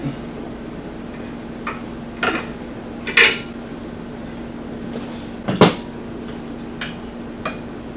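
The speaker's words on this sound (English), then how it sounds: "we can take our 3/4 inch wrench and we can loosen this nut" A 3/4 inch wrench works a nut loose on the clutch of a Polaris RZR 900S, giving a handful of separate metallic clinks and taps, fairly close and quiet, spaced irregularly over a low steady hum.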